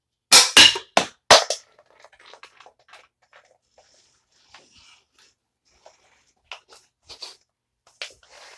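A prototype airsoft anti-tank launcher fires at close range as several sharp, loud pops in quick succession, followed by faint rustling and scattered small clicks.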